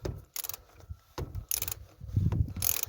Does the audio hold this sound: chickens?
no